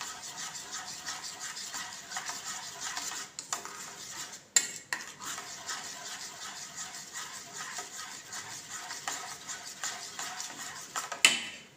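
Mousse cake mixture for a no-bake double-layer chocolate mousse cake being mixed in a bowl, with a steady run of soft scraping and clinking of a spoon or whisk against the bowl and one or two sharper knocks, close and quiet.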